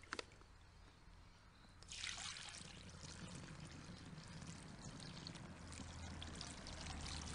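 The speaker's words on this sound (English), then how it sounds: "You can definitely hear some drips going through" Water pours onto a shirt being tested for waterproofing, starting as a faint trickle and then swelling into a steady, fairly quiet stream with drips running through the fabric, with no voices.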